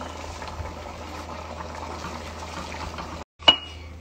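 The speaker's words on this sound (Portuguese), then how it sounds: "Agora eu vou dar uma refogada boa, uma fritada." Rice sizzles and fries steadily in a hot pan, a dense crackling hiss that cuts out briefly near the end before a short metallic clatter.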